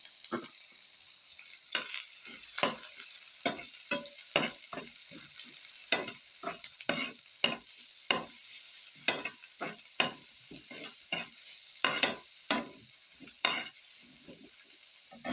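Garlic frying in a pan over low heat, a soft continuous sizzle under irregular scraping and stirring taps from a utensil, fairly close and moderate in level.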